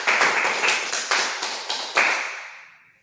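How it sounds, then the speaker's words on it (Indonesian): A small class claps for a student named Yuli, a few sharp hand claps in quick uneven succession, close and fairly loud, with the last clap ringing out and decaying into quiet. "berikan tepuk tangan untuk Yuli"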